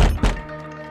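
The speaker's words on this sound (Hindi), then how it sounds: "पिताजी दरवाजा क्यों खटखटा रहे?" Two heavy knocks on a wooden door, a quick pair of close, loud thuds, then a fading ring-out with no talking.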